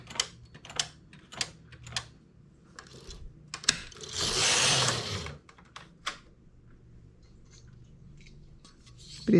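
A knitting machine carriage slides across to knit a row of separation yarn, a rushing mechanical sweep in the middle framed by scattered clicks and clacks from handling the machine.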